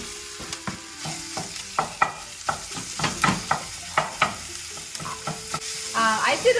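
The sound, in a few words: pork frying and being stirred in a pan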